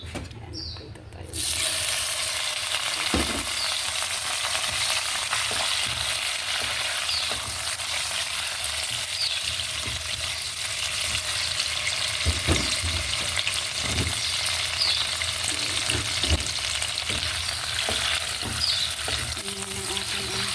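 Garlic and okra fry in a pan with a steady, dense sizzle that carries for about twenty seconds after a quiet start. Occasional soft knocks of stirring sit under it, along with a faint voice.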